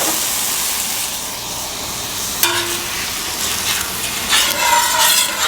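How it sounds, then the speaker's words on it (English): Vegetables sizzle in olive oil over an off-grid cooking setup, a steady loud frying hiss with brief clatters and stirring scrapes as they are moved in the pan. "And we're going to stir fry the veggies."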